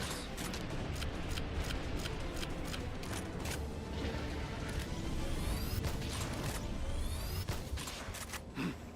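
Towers being destroyed in Palworld: a continuous run of sharp cracking impacts and gunfire-like bursts over a dense rumbling bed, with mechanical creaks and whooshes, loud and sustained throughout.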